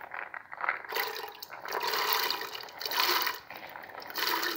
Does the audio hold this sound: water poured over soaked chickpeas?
yes